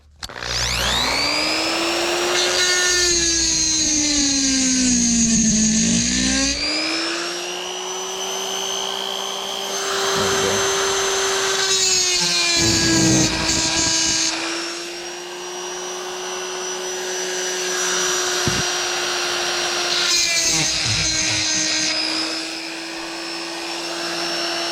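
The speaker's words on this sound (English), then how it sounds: "So I have my Dremel. It's a sphere carbide burr bit." A Dremel rotary tool fitted with a sphere carbide burr bit grinds a custom pocket clip, a high, steady whine that dips and rises in pitch as it loads against the metal, close and loud throughout with no talk.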